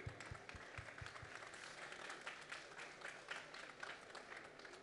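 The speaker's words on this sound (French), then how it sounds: "On l'applaudit." A crowd at a Dacia talk with Sébastien Loeb applauds with steady, even clapping that carries on throughout, heard from a distance and fairly quiet.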